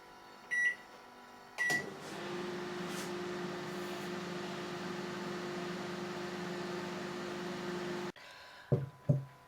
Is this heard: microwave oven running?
yes